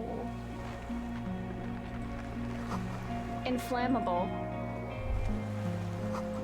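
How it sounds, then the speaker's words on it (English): Soft, steady wave wash from the video game Disco Elysium, set on a war-devastated shore, rolling on continuously beneath someone speaking and a few brief clunks. "just the sound of the waves crashing"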